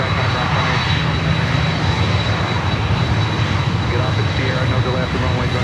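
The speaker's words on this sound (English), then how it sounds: "Behind the cafe there is Prime Air 767-300 waiting to continue taxiing into the gates or into the" A Prime Air Boeing 767-300 jet waiting to continue taxiing at Miami airport gives off a steady, loud engine roar with a thin high whine, continuous throughout, with faint talk underneath.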